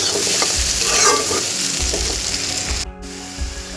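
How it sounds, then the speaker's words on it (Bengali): Spice masala frying with onions in oil in a pan, a steady close sizzle under brisk scraping and stirring strokes of a utensil against the pan. "তো ভালো করে আমি মশলাটাকে কষিয়ে নিচ্ছি।"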